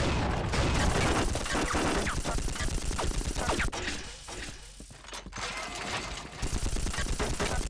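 A grenade launcher's alt fire in the video game Unreal 2 erupts in rapid, dense bursts of loud, crackling fire that continue almost without pause, dipping slightly midway, while a person talks.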